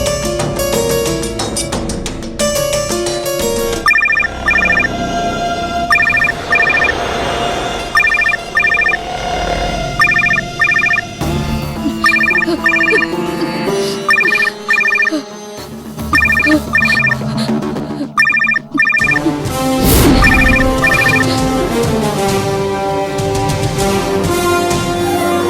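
A telephone rings repeatedly in a steady pulsing pattern while a call is placed, heard over a running music score in a Tamil TV serial scene, with no talking.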